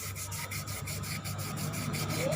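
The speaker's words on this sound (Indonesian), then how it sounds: "Jadi kita gosok-gosok seperti ini." Rapid back-and-forth rubbing of sandpaper with polish on a metal part from a Honda Vario 125 CVT, a steady rhythmic scratchy swish repeating about five times a second, close up.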